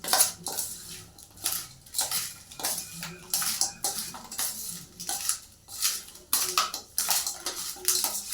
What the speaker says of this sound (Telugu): యాప్ పువ్వు అది వీలేసింది మొత్తం కలుపుతుంది